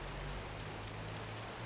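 Rain in the Minecraft game falls as a steady, even hiss of static-like drops with a low constant hum beneath it, no voices over it.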